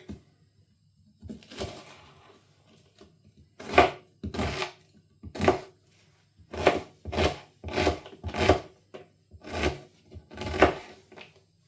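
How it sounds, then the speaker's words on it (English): An onion is chopped with a knife on a board: a series of sharp, close knocks, sparse at first, then coming in a quicker, uneven run. "Now we're going to chop the onion."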